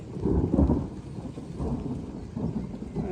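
Outdoors near farm beehives and a cornfield, thunder booms loudly and then keeps rumbling as rain sets in, a steady hiss of falling drops under the rolling storm with no talking.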